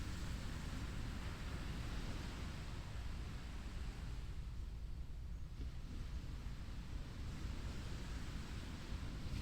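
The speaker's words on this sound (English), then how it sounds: "Now I'm walking along the sand, waves washing over my feet every so often." Waves wash steadily onto a sandy beach in a cove, making a continuous soft hiss of surf with no distinct breaks and no voices.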